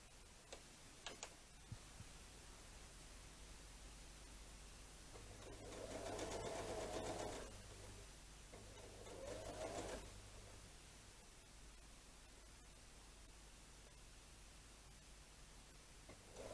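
A sewing machine stitches quilt block seams in two short runs of rapid, even whirring, with quiet ticking in between, all faint and close, with no talking.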